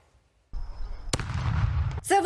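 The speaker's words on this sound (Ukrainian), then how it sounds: "Вибухає російська міна пелюстка на узбіччях звільнених сіл." A Russian PFM petal landmine explodes roadside in a village in Kharkiv region: a single sharp crack after a moment of quiet, followed by a heavy, sustained low rumble and another burst at the end.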